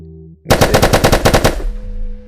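A gun emptied in an active ragdoll physics VR game: a rapid, loud string of about ten evenly spaced shots lasting roughly a second, then a fading tail, with no talking.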